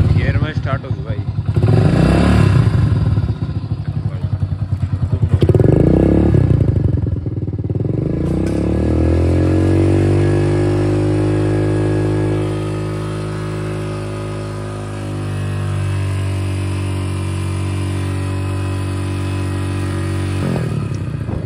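A motorcycle engine starts and revs hard twice, then settles into a steady idle that drifts up and down, close by, with people talking briefly early on.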